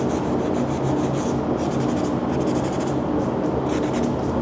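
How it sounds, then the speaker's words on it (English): Red Scotch-Brite pad scrubbing flash rust off bare metal, a steady close rasping rub that repeats in quick strokes with no pauses and no voices. "Sometimes the red Scotch Brite will get most of it off."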